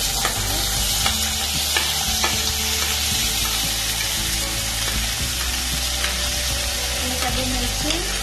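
Spices frying in a pan for paneer butter masala, a constant close sizzle with light crackles and faint stirring taps running the whole time, without speech.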